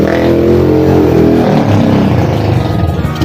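A car engine running on gas fuel roars loudly at full throttle, the revving pitch rising and then settling into a dense, steady drone close by.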